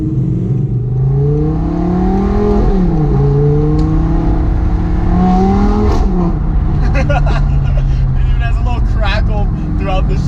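A V10 Audi R8 fitted with a full Capristo exhaust revs hard and loud nearby, pitch climbing and falling in repeated surges while excited voices talk over it.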